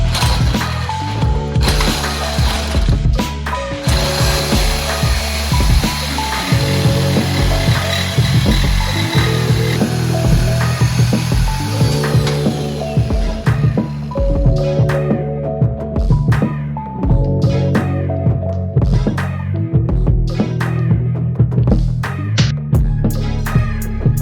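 Metal cutting on a pocket bike frame as the front motor mounts are chopped off, a steady loud mechanical grinding and rasping that runs continuously with rhythmic pulsing, close to the microphone and without speech.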